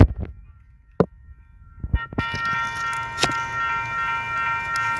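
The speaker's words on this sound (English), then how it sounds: "here comes an FEC." FEC light engine passing in Jacksonville, Florida. Quiet with a few sharp knocks, then a loud rumbling rush with a bright ringing tone sets in and holds near.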